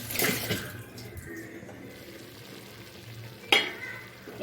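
Malabar spinach, potato and jackfruit seed curry cooking in a pan, a steady soft sizzle and bubbling throughout with a few sharper stirring scrapes near the start and end, no talking.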